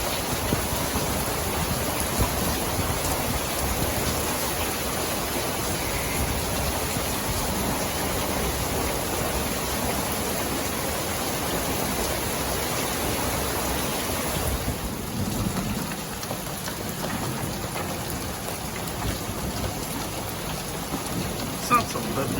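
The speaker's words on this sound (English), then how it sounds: "But here's more rain and hail." Steady rain with hail falling over a garden in spring, a dense continuous hiss with a slight drop in intensity partway through; no voices.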